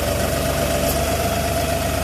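LS XG3140 tractor engine idling steadily while its loader lifts the machine off the ground, a loud, even diesel rumble with a constant hum and no talking.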